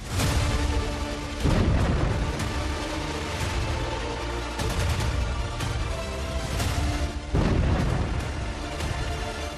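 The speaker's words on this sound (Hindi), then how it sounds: "देखिए कैसे इजराइल सड़क पर जाती हुई एक कार को टारगेट करता है और फिर उसे बम से उड़ा देता है" A bomb explodes on a road, destroying a car, with heavy, dense booms recurring at a few points over a loud, continuous rumble and no speech.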